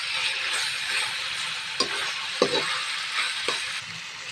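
Garlic and onion sautéing in a pan for a beef and cabbage dish, a steady close sizzle with a few sharp clinks and scrapes of stirring, no talking.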